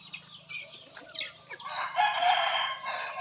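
Chickens cluck and squawk nearby, building into a loud, drawn-out rooster-like call, with faint background murmuring underneath.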